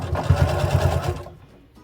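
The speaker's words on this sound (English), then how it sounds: "making sure my dart is open as I sew over it" Sewing machine running a fast, even stitch over a dart while sewing a stuffed bear, close and loud, stopping abruptly near the end.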